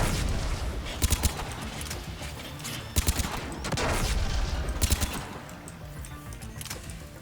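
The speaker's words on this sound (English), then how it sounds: "Somebody was shooting at me." Bursts of turret gunfire in Mass Effect 3 crackle in short clustered volleys around the one, three and five second marks, over a dense background of game noise.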